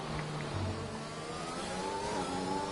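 Onboard engine note of a McLaren race car in a racing game at Monaco, heading down into a corner: a steady, fairly loud engine drone that shifts pitch smoothly, heard alone.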